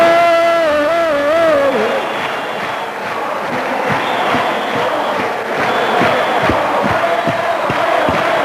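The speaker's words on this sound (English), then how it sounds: "Hands in the air, cheering, and general agreement" A large outdoor crowd at a Gibraltar National Day celebration cheers and shouts loudly and continuously after a stirring statement, with whoops and battle-cry yells over a dense roar of many voices.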